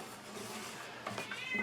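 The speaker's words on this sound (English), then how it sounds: "I got a cat in my window. He's yelling at me." Cat meowing at a window of a second-floor room, a short, insistent meow rising near the end over quiet room tone, close by and fairly soft.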